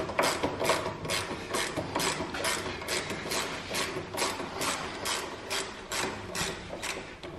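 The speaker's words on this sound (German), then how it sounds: "muss ich einfach die Spiegel lösen" A ratchet clicks rapidly and steadily close by while loosening the mirror screws on a BMW S1000RR motorcycle, in repeated bursts of cranking with no talking.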